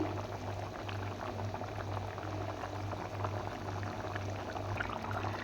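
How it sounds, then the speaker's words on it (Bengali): Matar paneer gravy simmering in a pan: a steady, low bubbling hiss with a faint constant hum beneath, even and unbroken throughout, fairly quiet and with no talking. "এটা এবার কিছুক্ষণ ফুটবে"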